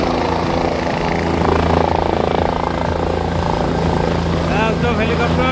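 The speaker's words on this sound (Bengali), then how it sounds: "এখন হেলিপ্যাডে এসে পৌঁছে গেছি, হেলিকপ্টার নামছে" A helicopter lands at the Kedarnath helipad, its engine and rotor droning loudly and continuously nearby, with voices and crowd noise mixed underneath.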